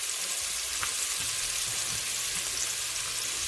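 White onions frying in a pan for shrimp-pineapple fried rice, a steady, even sizzle throughout with occasional faint stirring knocks, close and continuous.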